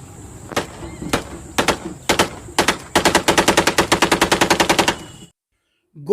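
Gunfire rattles in an attack on a CRPF camp in Rampur: a few spaced loud shots, then a fast sustained burst of automatic fire, close and harsh, ending abruptly in silence.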